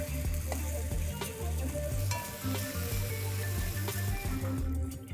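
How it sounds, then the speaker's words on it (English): Sliced tomatoes and onions frying together in a pot for Afghan-style mutton pulao, with a continuous loud sizzle and repeated scraping stirs close up, no talking. "Let's add in the sliced tomatoes. You need to stir this once, twice over"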